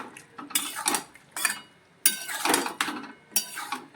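Bengali snail curry (guglir jhal) stirred in a pot after a pinch of garam masala, with a spoon scraping and clinking against the metal in four or five short, close bursts separated by quiet pauses.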